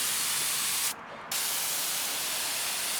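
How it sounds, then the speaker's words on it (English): Compressor-fed sprayer blasting K-Grip spray adhesive onto sculpture pieces, a loud, close, continuous airy hiss that cuts out for a moment near the middle and then resumes. "then I have a compressor that sprays a certain spray adhesive"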